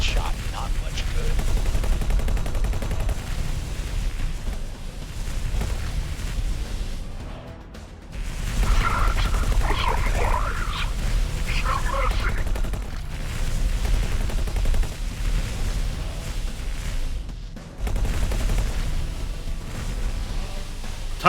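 Ship turrets fire continuously in the space game X4: Foundations, a dense sustained barrage of gunfire with brief lulls, mixed with game effects and a voice talking over it.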